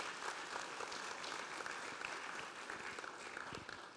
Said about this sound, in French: Oui, on peut l'applaudir, effectivement.